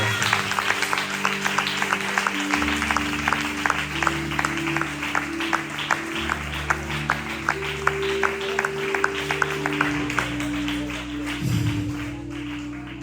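A church congregation applauds throughout a worship service, steady dense clapping over sustained keyboard chords, with a brief voice near the end.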